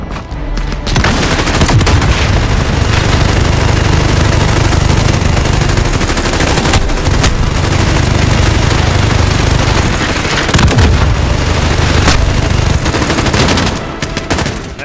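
A loud, sustained stream of automatic gunfire from a weapon in Call of Duty: Modern Warfare (2019) rattles almost nonstop for about fourteen seconds, a dense hammering burst with heavy low-end punch and only brief dips.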